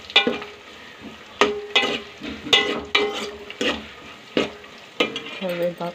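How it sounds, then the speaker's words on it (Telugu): Onions fry in a pan for a drumstick rasam, sizzling steadily while a spoon stirs and scrapes against the metal in irregular, close strokes. The stirring is punctuated by clatters of the pan. "ఇవి ఫ్రై అవుతూ ఉన్నాయి."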